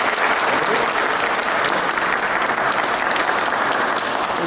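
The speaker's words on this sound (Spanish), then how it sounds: "Les deseo su aplauso y felicitación." A church congregation bursts into steady, full applause for a child and her parents and godparents, an even wash of clapping with no voices over it.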